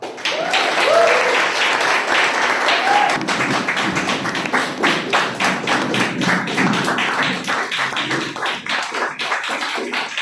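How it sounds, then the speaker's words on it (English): Toastmasters club members give applause for the next speaker, steady clapping from a small group with distinct individual claps and a few voices mixed in early on. "With a thunderous round of applause, please welcome our next speaker on stage"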